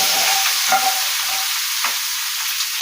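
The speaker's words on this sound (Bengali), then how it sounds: "আমি এই যে ভাজা সবজি হয়ে গেছে ভাজা, আমি ভাজা সবজিটা ওই কড়াইতে দিয়ে দিলাম।" Already fried vegetables are tipped into a hot wok, producing a loud, even sizzle with a few light clinks and stirring scrapes over about three seconds, no talking.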